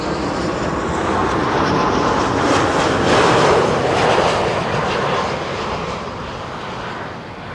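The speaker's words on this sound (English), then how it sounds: "TUI Max 8 737 up next." TUI Boeing 737 MAX 8 landing at Schiphol on runway 06, a steady broadband jet roar that swells mid-pass and eases off slightly toward the end, heard alone without talk.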